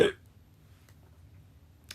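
A single sharp, loud hiccup bursts out at the very start, followed by near-silence and a faint click at the end.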